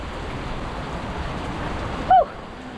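Steady rain falls through the night along a seashore, a constant close hiss of drops that runs unbroken, briefly cut by a short higher tone near the end.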